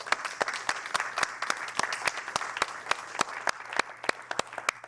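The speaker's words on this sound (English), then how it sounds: "let's give everybody another round of applause" Modest applause from a small classroom audience, with distinct individual claps forming an uneven patter throughout and a low steady hum underneath.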